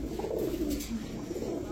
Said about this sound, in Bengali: নাজরা কালদম মাদি কবুতর দর্শক দেখেন, পাকিস্তানি নাজরা কালদম